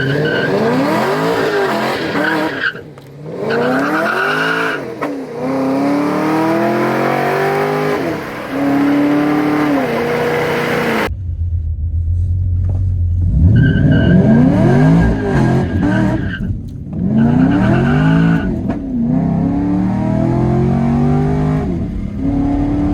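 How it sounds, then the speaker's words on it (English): A cammed Camaro SS with headers and true dual straight pipes does a burnout, its engine revving hard in rising and falling sweeps. Loud tire squeal runs underneath, with a brief drop between bursts. "I'm gonna hit another quick burnout real quick."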